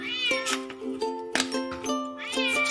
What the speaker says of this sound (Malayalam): പൂച്ച രാവിലെ തന്നെ അടിച്ച് വന്നപ്പോൾ കരച്ചിൽ തുടങ്ങിയിട്ടുണ്ട്